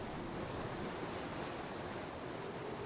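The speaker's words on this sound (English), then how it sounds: "Back on the surface, the southerly wind is picking up." Waves breaking at the sea surface under a rising southerly wind, a steady broadband roar of surf and wind noise that runs continuously and fairly loud with no voices.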